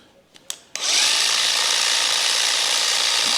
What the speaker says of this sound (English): set your grinder on a low speed